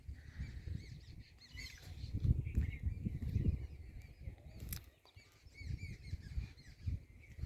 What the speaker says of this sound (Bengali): পাখির ডাক শুনছেন